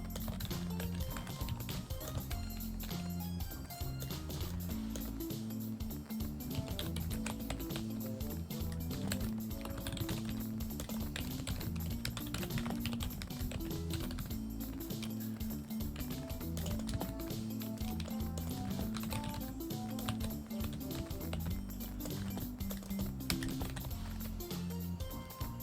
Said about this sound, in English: typing loudly.